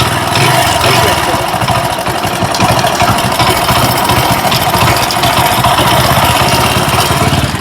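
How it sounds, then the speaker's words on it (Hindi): A Hero HF Deluxe motorcycle engine runs at idle with a rattle from a worn timing chain, giving a close, loud, busy clattering hum that stays steady throughout. "ये जो बाइक है HF डिलक्स बाइक किस तरह से इंजन साउंड कर रही है"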